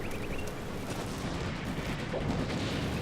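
Artillery fire in the World War II strategy game Combat Mission: Afrika Korps, a dense continuous rumble of overlapping gunfire and distant blasts filling the clip without a break, with no voices over it.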